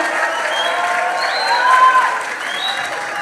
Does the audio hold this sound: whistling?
no